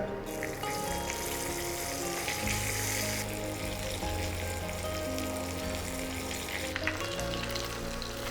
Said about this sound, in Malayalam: ഇനി ഓരോ സൈഡും നമുക്ക് 5 മിനിറ്റ് വെച്ച് പൊരിച്ചെടുക്കുക, ഒരു 10 മിനിറ്റത്തേക്ക്